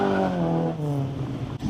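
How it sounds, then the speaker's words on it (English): Car doing a burnout outside a bikers' cafe, a loud continuous engine roar with falling pitch and harsh tyre noise, close by and alone, ending in a sudden sharp drop. "Burnout."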